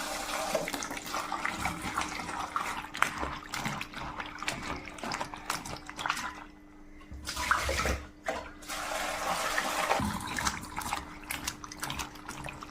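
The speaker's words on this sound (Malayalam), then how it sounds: "ഇനി രണ്ട് പ്രാവശ്യം കൂടെ നല്ലവണ്ണം വെള്ളം ഒഴിച്ച് കഴുകി എടുക്കണം" Green chillies being rinsed by hand in water in a kitchen bowl: close sloshing and splashing with water poured in, a brief quieter gap midway, then the churning resumes.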